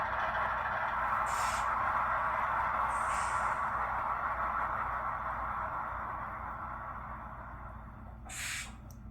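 A ScaleTrains Rivet Counter ES44AC Norfolk Southern heritage-unit model locomotive with DCC sound runs its shutdown sequence: a steady mechanical drone fades over several seconds, broken by short bursts of hissing air release.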